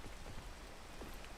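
Steady rain falls in a video game, a dense, even hiss of drops on surfaces with no talking over it.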